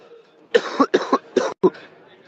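A man coughs in a quick burst of about five rough, close coughs, clustered into two groups, with faint room noise around them.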